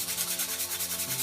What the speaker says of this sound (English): we'll take the sanding paper and we'll just knock a little off